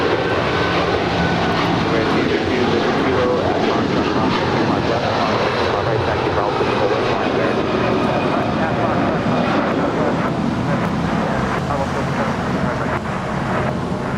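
An Airbus A330-300 jet rolls for takeoff on runway 25 right at LAX, its engines a loud, steady broadband roar with wind buffeting, sustained throughout, while a voice talks over it.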